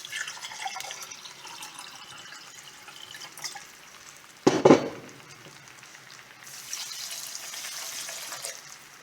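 Water is poured into a pan while making pralines. A steady faint hiss is broken midway by a short, louder splashing pour, and a brighter wash of liquid noise follows.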